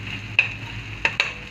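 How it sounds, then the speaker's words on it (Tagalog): Sisig frying in a pan to crisp it, with a low steady sizzle and a few sharp scrapes as it is stirred, close by with no talking. "ako na siyang prito gamay para mo gahi-gahi sad"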